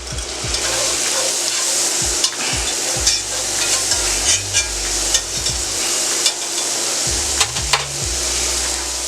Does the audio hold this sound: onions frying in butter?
yes